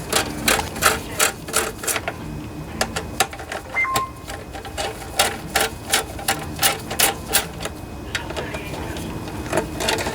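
A ratchet fitted with a 5/16 socket removes the gas tank bolts on a Briggs and Stratton lawnmower, making rapid, repeated close clicks in uneven bursts over the whole stretch.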